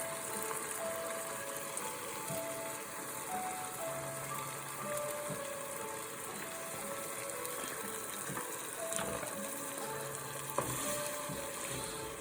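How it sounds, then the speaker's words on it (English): Mushroom, garlic and cream sauce sizzles steadily in a pan while being stirred, a constant soft frying hiss with faint occasional clinks and a background tone, no talking. "we're going to want to make sure that we stir it all up so everything's getting all that flavor"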